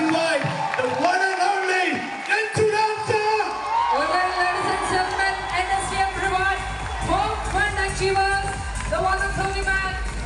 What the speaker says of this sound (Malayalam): നല്ലൊരു കൈയടി കൊടുക്കുകയാണെങ്കിൽ